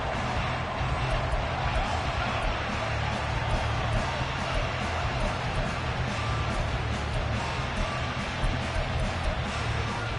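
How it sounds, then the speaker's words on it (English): A stadium crowd at a Lions football game late in the game roars in a dense, steady wall of noise that holds loud and unbroken for the whole stretch. "this crowd doing their best to make a lot of racket"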